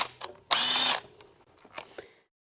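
A T30 Torx bit on a power driver spins out a coil pack bolt in one short whirring burst, followed by a few faint metallic clicks and taps nearby.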